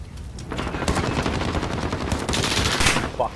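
Rapid bursts of MP7 submachine gun fire in a tactical shooter video game, dense crackling automatic shots rattling close and loud through the whole stretch, with a brief sharper accent near the end.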